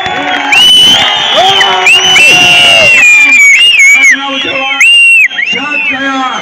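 A large crowd at a political rally in Doda cheering and shouting, loud and close, with repeated bursts of whoops and screams.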